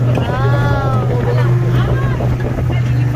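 Strong wind roars across the microphone over the steady drone of a motorboat engine, and voices are faintly heard beneath it.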